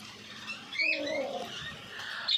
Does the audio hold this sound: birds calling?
yes